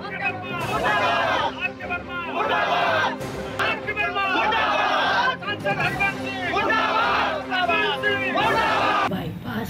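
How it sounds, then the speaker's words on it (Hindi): Villagers in a Pratapgarh village crowd together shouting protest slogans against their MP, a loud, continuous mass of overlapping voices with rhythmic chant-like bursts. "लोग सांसद जी के खिलाफ नारेबाजी पर भी उतर आए हैं।"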